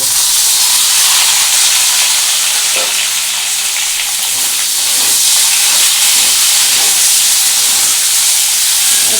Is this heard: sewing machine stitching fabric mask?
no